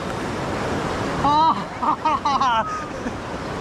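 Strong, cold stream water rushes steadily and close by in a Konkan river where a group wades out to catch chadniche fish, with voices talking briefly over the constant roar.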